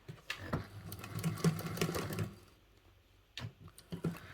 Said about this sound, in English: So we're over at the sewing machine. So the first thing I'm doing is I am basting these seams together.